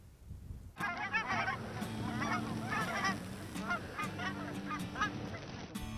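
Geese in the Nebraska sand hills honk in a loud, busy chorus of repeated calls that starts abruptly and continues throughout.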